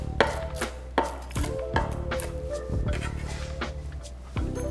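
Knife chopping through crispy-skinned fried chicken thighs on a board for a sandwich, a series of sharp, close crunching cuts at an uneven rhythm over a low steady hum.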